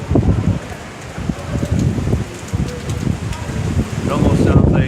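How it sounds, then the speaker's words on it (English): A hurricane wind gust sweeps through Broward County, Florida, a rough, rumbling rush that swells and buffets the microphone, growing stronger toward the end, with someone talking over it. "Here comes another gust. It's crazy because you can hear the wind coming towards you."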